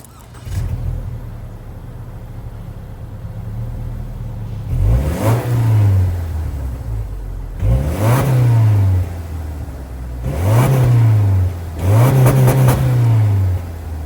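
A 2025 Subaru Legacy with a naturally aspirated 2.5-liter Boxer four-cylinder starts up and idles, then is revved four times in short bursts that climb and fall back to a steady idle, loud and close.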